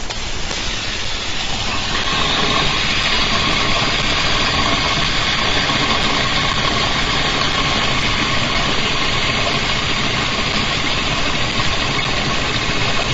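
A magnetic mirror device spins up on its track, giving a steady, loud, broadband whirring hum with a faint regular ticking that carries on unchanged throughout.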